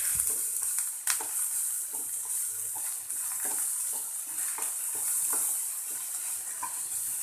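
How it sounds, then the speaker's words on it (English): Mixed vegetables for a cheese sandwich sautéing in a pan, giving a steady bright sizzle with occasional stirring clatter, close and continuous without talk. "I'll just saute it a bit."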